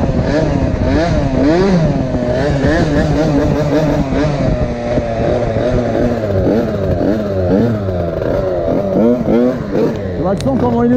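A 70cc Most Wicked motorcycle with a long transmission and a pinched belt pulls away sluggishly, its engine droning loud and steady close by, with voices talking over it throughout.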